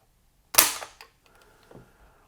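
A PTR-91 .308 short-barreled rifle, an HK51-style clone, has its trigger pulled dry against a trigger pull gauge, giving one sharp, close metallic snap followed by a faint, softer click in near silence.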